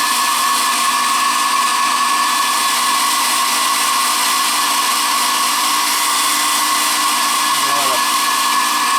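A heat gun blows steadily during assembly work on a Renault 5 Alpine, a loud, even whine with a constant hum, sounding close and alone.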